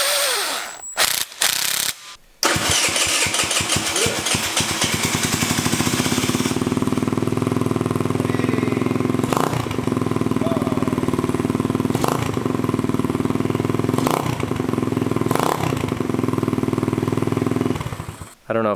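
A GY6 scooter engine with a newly fitted muffler is started and held at a steady running note, then given three short, sharp revs that rise and fall in a row, recorded up close with no talking.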